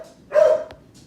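A dog gives a single loud, close bark, followed by a couple of faint, brief clicks in an otherwise quiet room.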